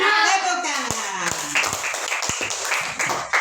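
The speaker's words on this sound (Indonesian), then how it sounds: "Tepuk tangan." Classroom of children clapping hands together during a math lesson, a burst of sharp, distinct claps in an uneven rhythm mixed with young voices chattering underneath.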